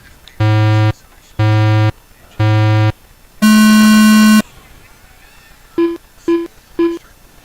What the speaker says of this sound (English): I'll give you those beeps